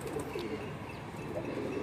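Pigeons coo softly nearby, low repeated murmuring calls with a few faint chirps over quiet background noise.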